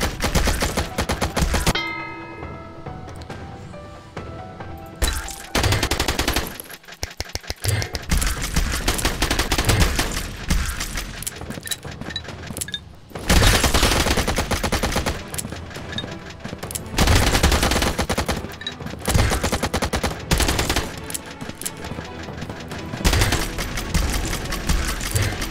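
Dense, loud automatic gunfire in the video game Xolta rattles almost continuously in long bursts, with brief gaps and a rumbling, layered battle mix beneath.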